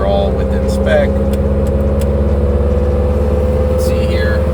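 A race car engine runs steadily on a dyno inside a racing workshop, a loud constant mechanical drone with a few brief higher squeaks and clicks over it.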